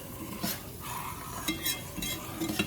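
Chicken mole sauce bubbling in a pot while being stirred, with soft scraping clinks and a steady simmering hiss, close by and moderately quiet, no voices.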